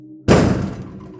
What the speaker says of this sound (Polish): ogromna siła uderzyła w drzwi wejściowe.